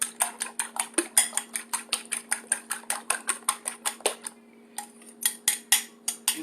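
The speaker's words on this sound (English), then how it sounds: "you're going to whisk your eggs up really good" Four eggs whisked briskly in a bowl, a fast steady run of close clinking taps against the sides, pausing briefly before resuming, with no talk.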